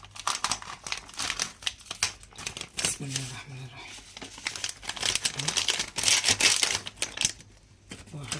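A hawawshi spice packet crinkles and rustles in bursts of crisp plastic noise, loud and close, while someone speaks briefly over it in a home kitchen.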